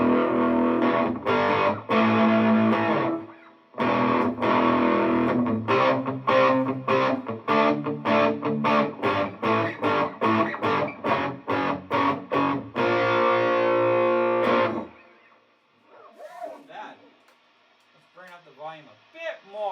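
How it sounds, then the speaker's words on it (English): Distorted electric guitar plays loud, crunchy chords in choppy bursts for about fifteen seconds, then a few quieter, sparser notes ring out. "Let's bring that distortion back up."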